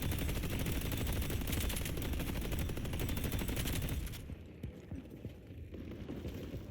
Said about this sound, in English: we just need to make sure that we're shooting the orbs that come out of the Guardian too